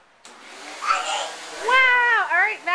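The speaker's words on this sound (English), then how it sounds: "show mommy you're vacuuming" A child's toy vacuum cleaner switches on and runs with a steady whirring hiss, while a voice rises loudly over it near the end.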